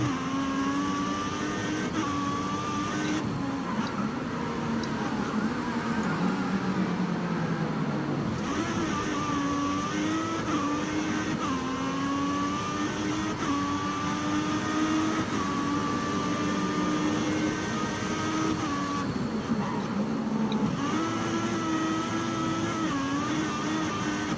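A Formula 1 car engine in the 2014 PC racing game wails continuously, pitch climbing through gear changes and dipping under braking, loud and constant throughout.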